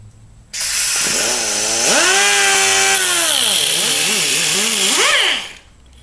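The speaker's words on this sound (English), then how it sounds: "The second way, besides the hacksaw, is to use the air cutoff wheel, which leaves you a nice, clean," An air-powered cutoff wheel slices through stainless steel braided high-pressure hose, a loud, close, whining grind that spins up, holds for several seconds with its pitch dipping and wavering as it bites, then cuts off.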